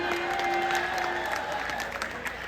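Audience applause at a Hindi poetry recital (kavi sammelan) in Mathura, sustained clapping that fills the hall steadily throughout, with a faint sung tone lingering underneath.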